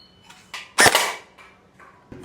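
An AK-47 gel blaster fires in single-fire mode, giving a few sharp isolated snaps with short gaps between them, close and fairly quiet.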